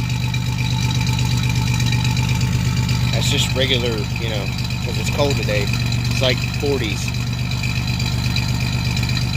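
A 1987 Chevrolet Celebrity Eurosport with a 2.8 V6 and a newly installed Magnaflow catalytic converter idles steadily on a cold day, a close, even engine drone running beneath someone talking.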